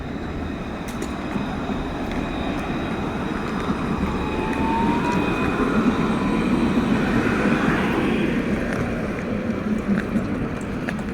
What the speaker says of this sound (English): So we're going to go inside the railway station.